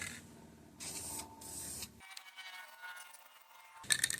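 Clear coat spray paint hissing from an aerosol can onto a car headlight in bursts, a few seconds each, with short pauses between passes, fairly close and moderately loud.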